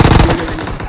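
A shotgun fires in the battle-royale game PUBG, one loud, close blast that quickly fades into a rumbling tail.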